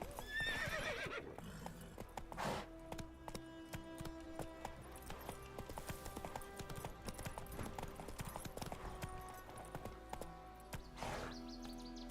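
A horse in The Witcher 3 gallops with a steady, rhythmic clip-clop of hooves and lets out loud neighs and whinnies near the start and again near the end, with faint game ambience underneath.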